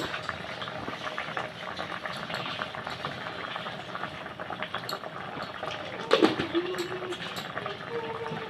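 A thin rohu fish curry with potato and cauliflower bubbles in a pot, a continuous close simmering burble with small pops and a brief clatter near the end.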